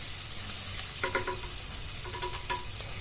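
Rohu fish sizzles steadily in hot mustard oil, with several clinking stirs and scrapes of a utensil against the pan.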